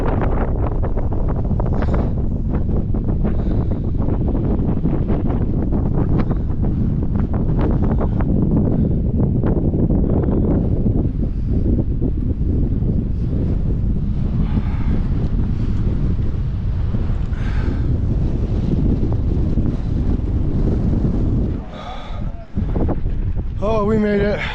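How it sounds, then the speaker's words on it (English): Strong gusting wind roars across the microphone on a hike up Acatenango volcano, loud and continuous for the whole stretch, briefly dipping near the end. "It's really windy coming up here."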